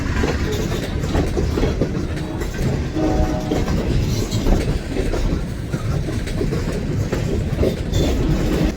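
A CSX freight train of mostly empty cars hauled by SD40 locomotives rolls past close by, with a loud continuous rumble and rail clatter and brief horn notes.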